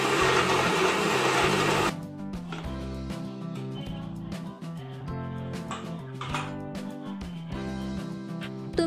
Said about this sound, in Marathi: त्यानंतर हे मिक्सरला फिरवून घेतलेलं आहे